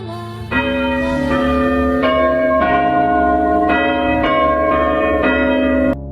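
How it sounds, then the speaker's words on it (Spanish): A school bell rings loudly, with repeated resonant strikes for about five seconds before cutting off. "Después sonó la campana de salida."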